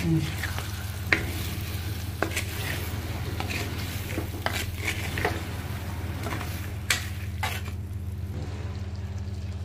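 Half a kilo of chicken with chili powder is stirred in a hot pan, giving a steady sizzle broken by repeated scraping and clinking of a spoon against the pan, close and without talk.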